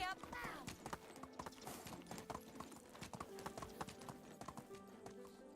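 Hooves of a ridden horse clip-clop at a steady trot in the game Medieval Dynasty, a brisk close rhythm of hollow knocks with a brief whinny near the start, continuing alone without talk.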